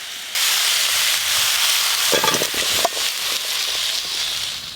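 Lightly fried vegetables for khichuri are tipped into a hot pan, setting off a loud, steady sizzle that stays constant, with a brief clatter of pieces landing partway through.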